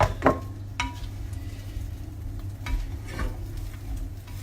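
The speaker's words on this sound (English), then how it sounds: "I'm going to add 1 of my 30 grams of cheddar cheese and just sprinkle that in. And then I'm going to give that a good mix." Cheddar cheese is mixed into a nacho-style bacon and chips dish, with a few soft scrapes and clicks of a utensil against the pan over a low background hum, quiet and close.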